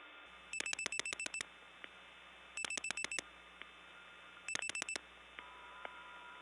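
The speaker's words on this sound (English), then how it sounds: "the trunk noise is noticeable" Old step-by-step telephone tandem switching equipment in Gainesville, Georgia, 1979: three bursts of rapid, clicking, beeping pulses separated by pauses, over a faint, steady background line hum and occasional soft ticks.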